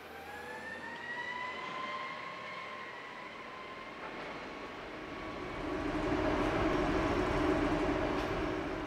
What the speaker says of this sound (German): Die Strecke ist nun frei für den ausfahrenden Güterzug 5120 nach Landquart.